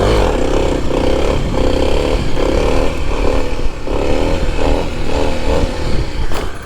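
A dirt bike engine drones steadily at close range while being ridden, with a rough, buzzing tone that rises and dips slightly under throttle changes and a brief clatter near the end.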